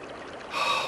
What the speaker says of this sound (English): You hear the river?